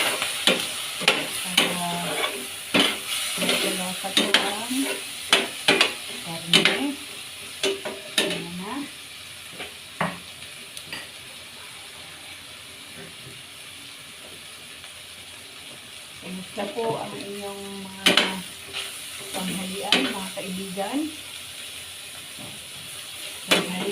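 Pancit canton with meat, onion, garlic, oil and soy sauce being stir-fried, with repeated bursts of spatula scraping and clanking over a continuous sizzle, in irregular clusters across the whole stretch.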